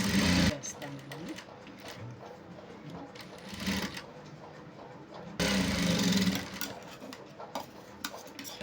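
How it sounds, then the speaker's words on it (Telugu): A sewing machine stitching the side seam of a pair of pants, close whirring bursts at the start and again in the middle, with someone talking quietly in between. "ఇది సీదా సైడ్ చివరకు కుట్టు వేస్తానండి."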